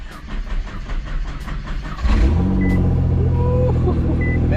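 A Nissan GT-R's engine cranks and catches after a night parked outside, settling into a loud, steady idle that holds close by with no talk over it.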